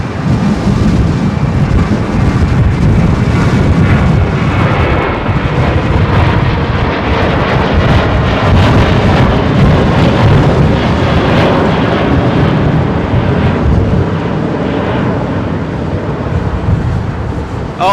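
An Airbus A321ceo takes off and climbs steeply, its engines producing a loud, continuous roar that swells and holds for the whole stretch with no talking.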